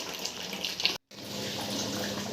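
Water pours steadily into a pot of mutton curry being cooked in a home kitchen, a close, continuous rushing splash that cuts out for a brief moment and then resumes.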